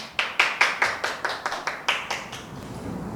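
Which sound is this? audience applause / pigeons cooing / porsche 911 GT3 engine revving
audience applause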